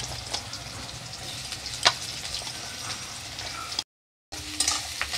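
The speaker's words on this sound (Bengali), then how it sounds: "পেঁয়াজগুলো লাল করে ভেজে নেব।" Sliced onions fry in hot oil in a pan for a Bengali chicken curry, giving a steady close sizzle with faint stirring clicks and a brief dropout near the end.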